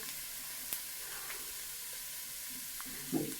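Chicken with coriander powder and chicken masala fries and is stirred in a pan, giving a faint, steady sizzle broken by a few soft utensil clinks.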